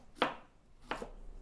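Okra is chopped on a cutting board with two sharp, close knife strikes about a beat apart and quiet pauses between them.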